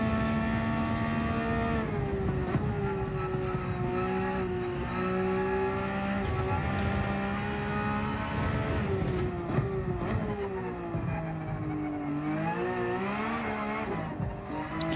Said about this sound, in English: I mean, the engine sound is so nice